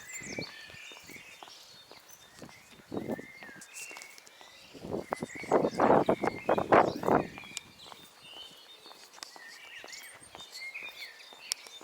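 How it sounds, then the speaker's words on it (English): Bird chirps and tweets scattered through an outdoor street scene in East Preston, West Sussex, with soft footsteps and a louder burst of shuffling movement midway. "Hear those lovely birds tweeting."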